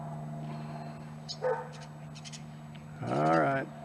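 Dogs on a property where they are being let loose, with a short bark or yip near 1.5 s and a louder whining bark around 3.2 s over a steady background hum.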